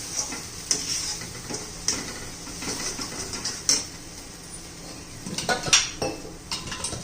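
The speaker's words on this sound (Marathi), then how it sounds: "ते 1-2 मिनिटं चांगलं परतून घेऊया." Chole masala sautéing in a pan: a spoon clinks and scrapes against the metal in irregular taps over a faint, steady sizzle, fairly quiet and close with no talking.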